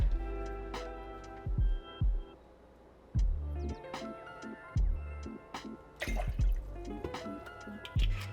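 Lemon juice and cinnamon syrup pour into a cocktail shaker, giving a run of close liquid drips and small splashes with brief taps and clinks spaced across the pour.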